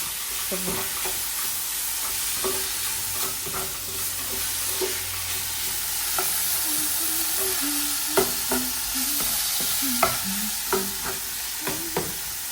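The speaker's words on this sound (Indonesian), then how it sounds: "Ini modal digoreng begini aja" Ingredients for a European-style soup frying in a pan, a steady close sizzle with occasional stirring clicks and scrapes over the hiss.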